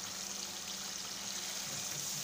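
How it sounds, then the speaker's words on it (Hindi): Water is poured into a pot of chicken curry (murgh chana) on the stove, a steady soft trickle and splash running continuously through the short stretch, close and fairly quiet with no talk. "इसमें हम हल्का सा पानी डालेंगे"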